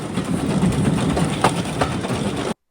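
A heritage train on the Llangollen Railway in Wales rumbles steadily with a low engine drone and rattling carriages, a few brief squeaks rising over the continuous noise.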